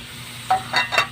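Fish dropped into a pan of frying crushed tomatoes, with three short bursts of sizzling and stirring close by, each brief and bright, after a quiet stretch.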